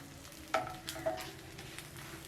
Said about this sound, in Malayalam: നമ്മൾ മിക്സ് ചെയ്ത് വെച്ചിരിക്കുന്ന മുട്ട 1 സ്പൂൺ ഒഴിച്ച് കൊടുത്തിട്ട് ഇതുപോലെ ഒന്ന് ഓംലെറ്റ് ചെയ്തെടുത്താൽ മതിയാവും